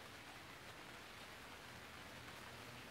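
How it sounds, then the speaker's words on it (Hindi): Steady rain hisses evenly and softly for a few seconds, a dense wash of patter with no voices. "बारिश।"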